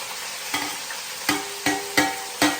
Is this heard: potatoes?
yes